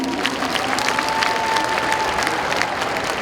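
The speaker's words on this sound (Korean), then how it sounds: "다시 한번 기원과 감사의 박수를 부탁드립니다." Audience applause at a ceremony marking the 100th anniversary of Kim Dae-jung's birth, given in honor of the foundation chairman turning 95; steady, dense clapping throughout with a faint sustained tone running beneath it.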